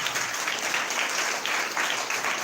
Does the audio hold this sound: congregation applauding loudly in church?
yes